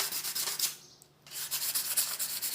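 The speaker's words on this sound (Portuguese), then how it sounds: "você pode passar bem a lixa, tá vendo?" Sandpaper scrubs across a painted piece to give it a worn, distressed finish, in brisk repeated back-and-forth strokes that are loud and close, with one short pause midway.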